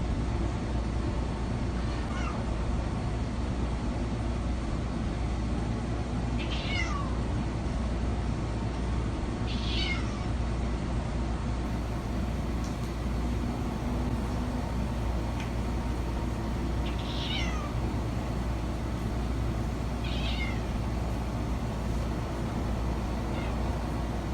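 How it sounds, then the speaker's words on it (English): Cats meowing at a door late at night: a handful of faint, thin meows spaced several seconds apart over a constant background hiss. "but the cats are back at the door."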